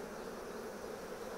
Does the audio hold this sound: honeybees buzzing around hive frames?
yes